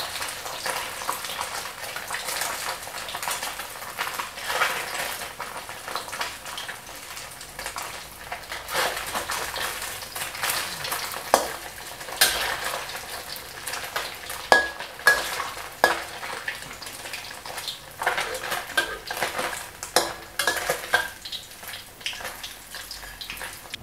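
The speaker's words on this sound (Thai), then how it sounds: "หลังจากนั้นก็นำปลาสลิดของเราลงทอดอีกครั้ง เราจะใช้เวลาทอดไม่นานแล้วนะครับ" Snakeskin gourami sizzling in hot oil in a pan for a second frying, a steady loud crackle and spatter running throughout with stirring clinks, no voices.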